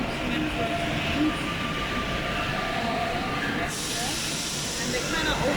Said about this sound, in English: So these are the notorious French metro trains.